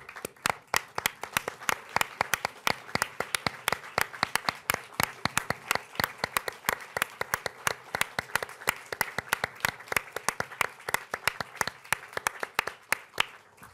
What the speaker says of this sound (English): give them the round of applause that they deserve